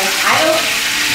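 Fish frying in hot oil in a home kitchen, a loud, steady crackling sizzle that fills the whole clip with no talking.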